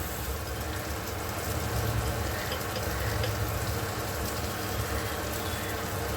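Continuous sizzling of vegetables frying in a hot pan, a steady crackling hiss throughout with occasional stirring.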